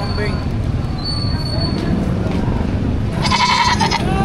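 Goats bleat at a cattle, goat and carabao market in Padre Garcia, Batangas, a couple of loud cries rising over constant crowd chatter and engine rumble, with people talking throughout.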